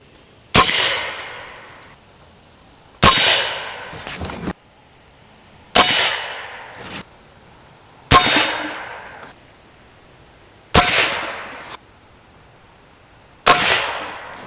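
A .357 air rifle fires repeatedly at a cinder block: six sharp cracks with impact clangs, evenly spaced about two and a half seconds apart. Each one is loud and close, with a short decay into quiet.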